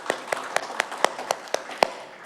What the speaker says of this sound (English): I will pause if you would like to clap.